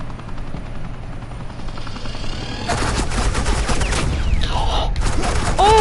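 Bursts of suppressing gunfire from Agent Quinn's team in the Batman Telltale game, The Enemy Within, erupt loud and close over a steady helicopter-like drone, with a sharp rising whine near the end.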